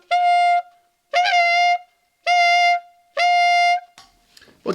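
Tenor saxophone attempting the altissimo high G, four sustained squeaky-bright tones of about half a second each with short gaps, played alone and close, followed by a faint breathy scrap at the end.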